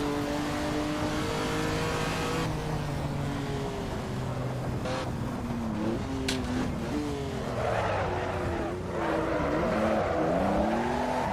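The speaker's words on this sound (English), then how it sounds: "Driving a Ferrari 250 short wheelbase." A Ferrari 250 short wheelbase racing in Assetto Corsa, its engine droning steadily and close with rising and falling revs through gear changes, alone without talk.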